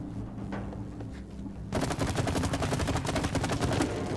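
Rapid automatic gunfire in the video game It Takes Two starts suddenly after a quiet stretch and continues as a dense, steady burst of close shots.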